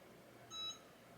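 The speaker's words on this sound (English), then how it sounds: "I just heard a beep." A Cricut hat press gives a single short, faint electronic beep while connecting over Bluetooth, set against a quiet room hum.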